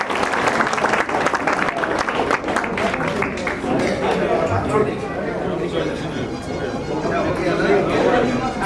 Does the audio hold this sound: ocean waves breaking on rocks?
no